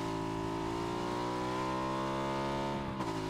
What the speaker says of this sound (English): I hear another car, or motorcycle.